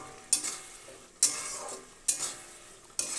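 Sweet, sour and spicy pickle syrup with sugar bubbles in a pan, and four regular stirring strokes scrape through the steady simmering sizzle. No voices are heard.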